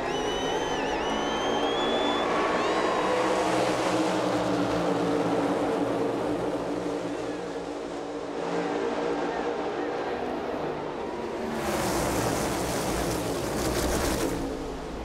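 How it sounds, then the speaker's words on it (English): A pack of NASCAR Cup stock cars roars up to speed at Talladega at the green flag, a loud, continuous engine drone that swells again near the end, with a commentator talking over it. "the engine churning out the horsepower to get these cars up to speed"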